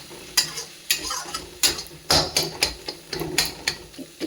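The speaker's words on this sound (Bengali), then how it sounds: "আর একটু নেড়ে দেবো" A tomato, ridge gourd and fish curry is stirred in a pan with rhythmic, evenly spaced scraping strokes over a low sizzle, close and fairly loud with no talk.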